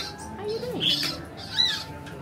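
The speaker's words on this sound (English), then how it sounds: "That's an interesting bird." A bird in an animal cafe in Japan gives a few short, bright calls and a sliding chirp over a quiet indoor hum, with a voice murmuring faintly underneath.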